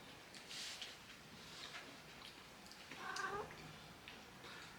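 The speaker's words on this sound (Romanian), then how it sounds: "A intrat și pisica." A cat gives a brief, faint meow in a home kitchen at Easter, a short wavering cry rising over a steady room hiss, with softer mewing noises around it.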